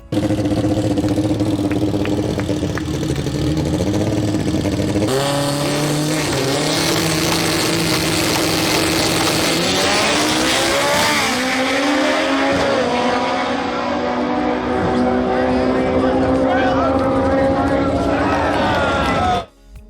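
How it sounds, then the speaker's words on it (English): An all-wheel-drive big-turbo DSM races an all-wheel-drive Honda Civic, engines howling and climbing in pitch through the gears with a brief tire squeal, loud and continuous until cutting off at the end, with a voice talking over part of it. "Racing the famous Section 8 all-wheel drive Honda Civic."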